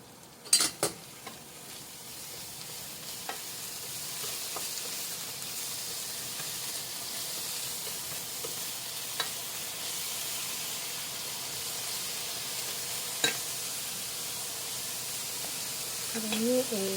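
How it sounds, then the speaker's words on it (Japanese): Drained frozen bean sprouts stir-frying in a reheated frying pan as a vegetable stir-fry, giving a steady broad sizzling hiss throughout with a few sharp clacks of utensil on pan, plus faint speech in the background. "フライパンに再度火を入れて、水切りしたもやしをそのまま入れます。"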